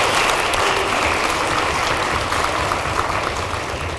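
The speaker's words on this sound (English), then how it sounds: "How about a round of applause for the team?" A crowd at a high school academic quiz competition gives the team a steady round of applause, dense and loud throughout, slowly fading toward the end.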